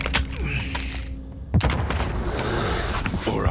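Frag grenade detonating in the video game Call of Duty: Warzone, a single sharp booming blast at mid-clip over steady gunfire and game ambience, with scattered thumps around it.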